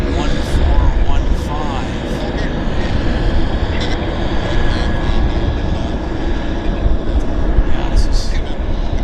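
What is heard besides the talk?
American Airlines airliner at Vancouver Airport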